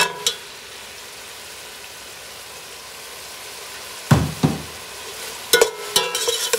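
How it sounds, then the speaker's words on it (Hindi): Tomatoes and spices for chicken karahi fry with a soft, steady sizzle, broken by a few sharp spoon scrapes and stirring knocks toward the end. "मैं इसको भून रही हूँ ताकि ये टमाटर सॉफ्ट हो जाए।"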